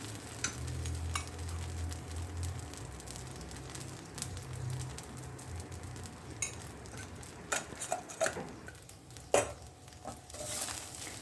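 Mini podi idlis tossed with ghee in a frying pan, a soft continuous stir and scrape over gentle sizzling, with a few sharper spoon knocks against the pan toward the end.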